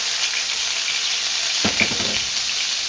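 Garlic and ginger paste frying in a pan, a loud continuous hissing sizzle throughout with a brief bump of stirring partway through, no voices.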